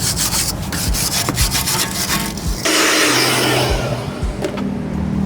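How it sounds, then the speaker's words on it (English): A BMW X5 brake caliper gets scrubbed with a brush, giving steady, loud, close rasping strokes with a rhythmic back-and-forth texture and no talk over it. "Give the caliper a good scrub."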